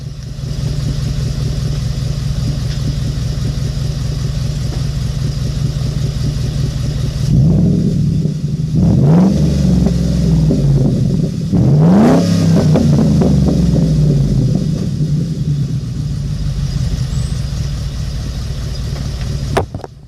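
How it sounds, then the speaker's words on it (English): A pickup truck fitted with aftermarket mufflers idles loudly with a deep rumble, then revs sharply twice in quick bursts before settling back to a steady idle. "So I like the way it sounds with those mufflers."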